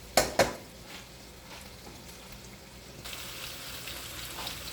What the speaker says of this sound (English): I'm gonna let them fry on one side